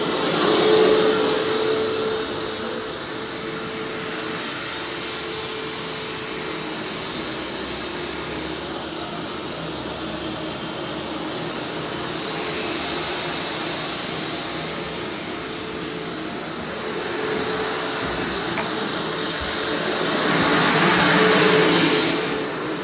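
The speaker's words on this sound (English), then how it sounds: "I'm going to walk past the noisiest vacuum in history." A very loud vacuum cleaner drones steadily for the whole stretch, with a broad roaring hiss that swells louder near the start and again toward the end as it is passed, with no talking.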